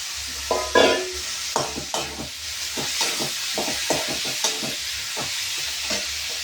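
Raw figs tossed into a pan with softened tomato and asafoetida sizzle loudly and steadily while a spatula scrapes and stirs in repeated close strokes.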